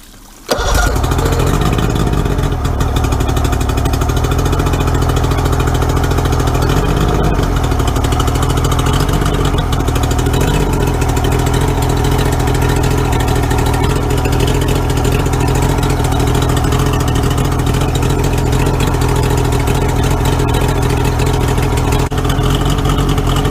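A Mercury outboard engine being winterized cranks and catches after a brief quiet moment, then runs loud and steady at idle for the rest of the stretch with a faint rise in pitch, no talking.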